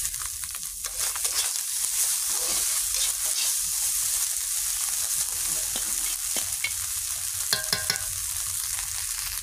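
Spice powder sizzles in hot oil in a home kitchen pan, a soft, steady hiss with occasional scraping and stirring clatter from a spoon, fairly faint and with no talking.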